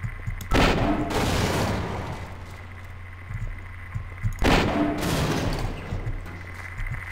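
An automated turret fires in the game Half-Life: Source, two loud bursts of rapid gunfire several seconds apart, each trailing off into a softer rattle.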